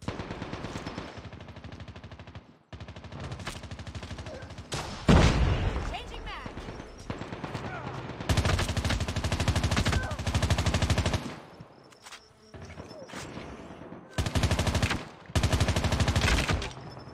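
Rapid bursts of automatic gunfire from the mobile shooter Call of Duty Mobile, loud and close. Dense volleys come in several clusters separated by short lulls, layered over game sound effects and what may be voice chat.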